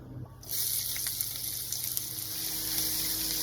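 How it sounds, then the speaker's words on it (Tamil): Four sliced onions drop into hot palm oil for a homemade pepper chicken, setting off an abrupt, loud, hissing sizzle that stays steady and bright, with small crackles and pops continuing to the end. "ஃபர்ஸ்ட் 4 வெங்காயத்தை போட்டு நல்லா வணக்குங்க மக்களே"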